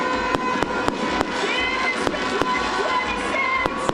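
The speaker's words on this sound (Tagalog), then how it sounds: "Ang inabangang mga paputok ng lungsod, makukulay at pasabog sa pagpapagilas." Fireworks burst over Burnham Park in Baguio City at New Year, sharp booms popping at irregular intervals above a continuous crackle and distant crowd murmur.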